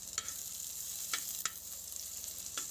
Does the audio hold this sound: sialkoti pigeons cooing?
no